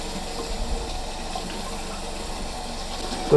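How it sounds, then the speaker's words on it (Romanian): Water running steadily over a Kawasaki ER6N motorcycle's BMC air filter as it is rinsed, a continuous close hiss and splash with no talk. "Clătiți-l foarte bine cu apă. Să iasă tot asta din el."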